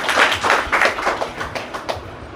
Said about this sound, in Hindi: सिस्टम के लिए जोरदार तालियां।